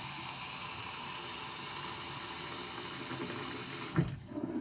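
Tap water runs steadily into a pot of rice being rinsed for a one-pot chicken and rice dish, a continuous close hiss and splash that breaks into a brief slosh near the end.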